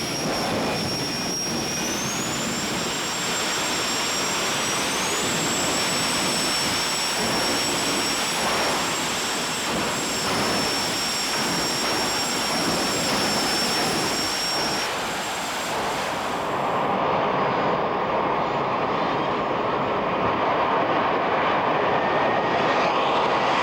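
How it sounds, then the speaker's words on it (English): A loud, roaring jet car blasts continuously down a quarter-mile drag strip at 272 mph, close and overwhelming, with a rising whine; the roar drops to a lower rumble near the end. "You have the fastest jet car anywhere now"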